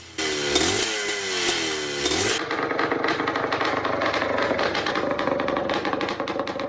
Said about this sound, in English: The Suzuki TM400 Cyclone.